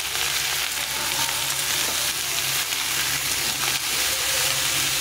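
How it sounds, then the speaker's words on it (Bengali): Raw green banana and mixed vegetables frying in oil in a pan, a steady, close sizzle with stirring scrapes running throughout without pause, no voices. "এই কাঁচা কলাটা এটার সঙ্গে একটু ভেজে নেব।"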